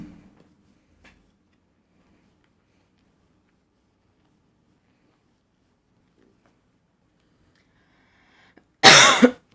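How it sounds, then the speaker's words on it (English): A single loud, close cough bursts out near the end after long near-silence, as if right into a microphone, with only faint rustles before it. "I guess I still coughed in your ear"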